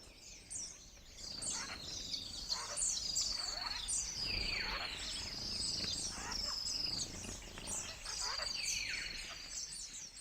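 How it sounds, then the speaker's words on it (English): A mixed-species foraging flock of forest birds calls through the canopy, with overlapping high chirps, trills and tweets repeating steadily at a moderate distance over soft ambient rustle. "What you're hearing and what I've experienced is what's called a mixed species foraging flock."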